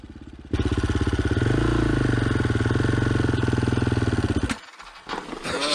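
A 2007 TC450 off-road motorcycle engine runs loud and close with a steady, throbbing rumble that swells in the middle and then cuts off near the end, with no one talking.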